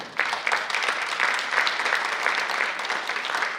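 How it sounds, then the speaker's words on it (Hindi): A crowd applauds loudly at an honouring ceremony as a guest is presented with a shawl, coconut, memento and bouquet. The clapping is steady and dense, close and full throughout. "जोरदार तालियां।"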